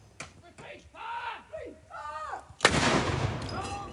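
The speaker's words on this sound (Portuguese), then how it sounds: "E agora a gente vê ao vivo a salva de tiros que marca essa saudação real" Royal gun salute for King Charles III outside Buckingham Palace in London: one sharp, loud cannon boom rings out after a few seconds, followed by rumbling echo, with a voice heard beforehand.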